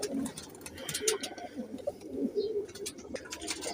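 Perwazi pigeons coo in soft repeated bursts close by, their throaty calls rising and falling among light rustling and scattered higher chirps.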